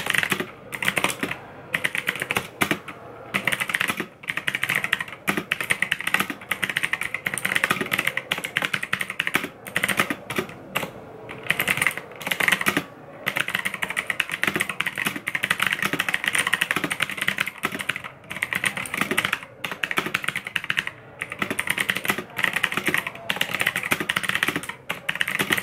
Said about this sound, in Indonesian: untuk teman-teman yang pengen mendengar hasil suara dari switch G-Shin ini, kalian bisa mendengar hasilnya seperti ini.